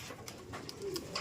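Pigeons coo softly, a few low murmuring calls against faint background noise, with some light chirps and taps mixed in over the short moment.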